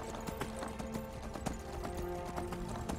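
Horse hooves clip-clopping on ground in the Skyrim video game, a steady rhythmic series of hoof strikes under a faint game soundscape, with no talking.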